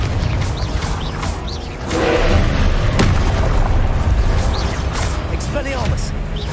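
Confringo fire-blast spell exploding in Hogwarts Legacy combat, booming bursts over a dense, continuous din of battle effects, with a shouting voice in the mix.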